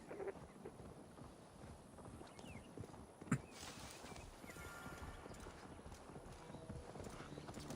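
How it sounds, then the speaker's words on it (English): A wolf mount in Assassin's Creed Valhalla gives a horse-like neigh over steady clip-clop hoofbeats, faint and continuous, with a brief louder whinny partway through. "Why does the wolf neigh?"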